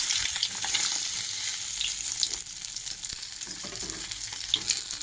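Pieces of food fry in hot oil in a pan, giving a steady, close crackling sizzle with a few faint stirring clinks and no talking.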